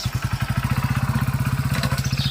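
A motorcycle engine runs close by in a village, its steady rapid low thumping pulse continuing without a break and fairly loud.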